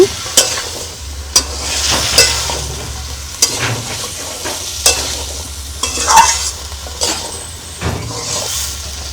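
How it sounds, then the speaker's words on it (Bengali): Sweet pumpkin and spices are stirred in a frying pan, a steady sizzle under repeated sharp scrapes and taps of a spatula at an irregular rhythm, close and fairly loud. "এভাবে নেড়ে ছেড়ে সুন্দরভাবে আমি মিষ্টি কুমড়ার সাথে মশলা মিক্সড করে নিয়েছি"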